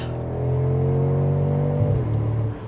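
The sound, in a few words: twin-turbo V8 SUV upshift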